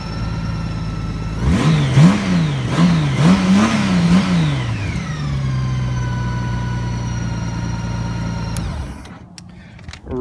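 A 2014 Honda Gold Wing motorcycle engine revs up several times in quick, rising-and-falling bursts, then settles into a steady, loud idle before cutting off, close to the microphone.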